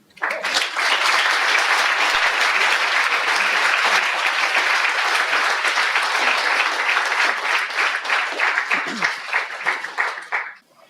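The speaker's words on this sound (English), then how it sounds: "They clapped." Sustained audience applause at a lecture, a dense wall of clapping that holds steady for about ten seconds before thinning out and stopping abruptly.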